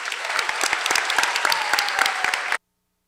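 An audience applauds finalists and judges at a charity venture competition, dense sustained clapping from a crowd that cuts off abruptly near the end.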